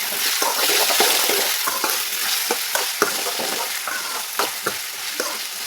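Sliced potatoes sizzle in hot tempering oil, a dense steady frying hiss broken by repeated spatula scrapes and knocks as they are stirred, close and with no talking.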